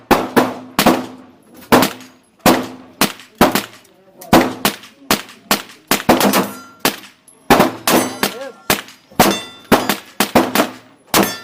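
A SCCY CPX-3 .380 caliber handgun fires at a shooting range. The shots are loud and sharp, coming in a rapid irregular series with brief reverberant tails, and many rounds follow one another closely.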